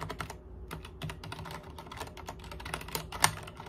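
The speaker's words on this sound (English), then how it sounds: "I was like mesmerized by the keyboard." Fingers type on a computer keyboard in a quick, uneven run of close, crisp key clicks, with a sharper tap near the end, no speech.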